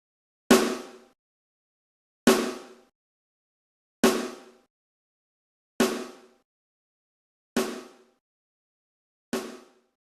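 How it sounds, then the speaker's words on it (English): Six sharp snare drum hits, evenly spaced about every two seconds, each a crisp crack with short decay and silence between. "Okay, so I have the snare here."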